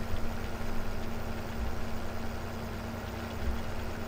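A tractor in Farming Simulator 15 drones on during night tillage, a quiet, even engine rumble holding a steady pitch throughout, with no voices.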